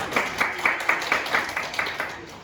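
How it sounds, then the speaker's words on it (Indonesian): A classroom of students claps together in a steady, evenly spaced rhythm, about eight or nine crisp beats in quick succession, moderately close and without talk. "Kita berikan tepuk tangan"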